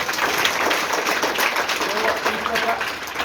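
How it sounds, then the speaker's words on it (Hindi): Students in a school gathering clap for their woman teacher in a steady, dense patter that runs throughout, with a voice talking over the applause. "चलो मैडम के लिए तालियां बजाओ सर।"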